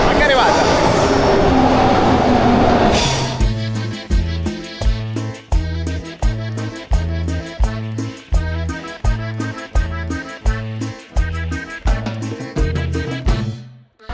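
São Paulo metro train pulling into a station: a loud rushing roar at first, then a steady clickety-clack of wheels over rail joints, repeating rhythmically and slowing as the cars pass close by.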